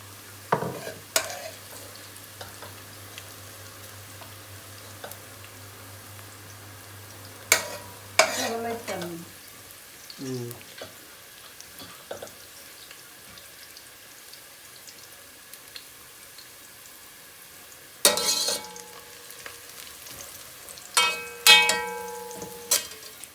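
Hot ghee sizzles quietly in a pot for mutton yakhni pilau, broken by several sharp clattering bursts and scraping strokes near the start, middle and end, with no voices.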